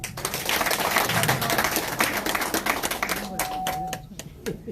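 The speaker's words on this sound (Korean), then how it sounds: "한 분 한 분 소개할 때마다 큰 박수 부탁드립니다" An audience claps in dense, crackling bursts at a Jeju political event where guests are introduced one by one. The applause runs steadily throughout the clip, mixed with a voice speaking over it.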